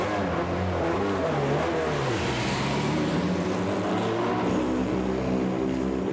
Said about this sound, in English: Quite different engine sound.